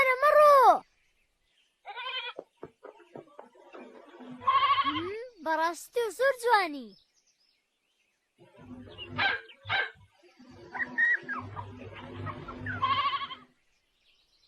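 Sheep bleat in bursts in a Kurdish-dubbed cartoon episode, mixed with dog barks and animated character voices talking. Calls come in short clusters separated by brief silences.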